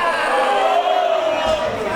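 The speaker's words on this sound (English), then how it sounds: "People cheering Orlando Silva to defeat him" Crowd noise swells steadily through an arena during a wrestling match, a dense roar of cheering and chanting that holds loud for the full two seconds with no pause.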